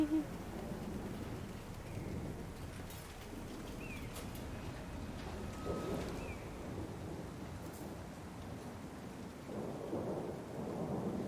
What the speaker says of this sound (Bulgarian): Едва буря.